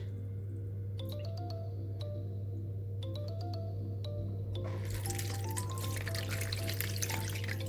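Homemade fizzy ginger drink pours and trickles through a sieve, a steady liquid splash under a constant low hum, with clinking and a louder gush of flowing liquid in the second half.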